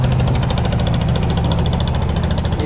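A trawler boat engine at a busy river port, Sadarghat in Dhaka, runs loud and close, a steady thudding rumble with rapid rhythmic knocking throughout.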